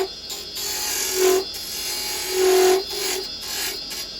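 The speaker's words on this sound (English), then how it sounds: "square chisel, get this down to size" Square carbide chisel scraping and rasping against spinning wood on a lathe while turning a small birdhouse, with steady close abrasive cutting and periodic louder bursts as the tool bites.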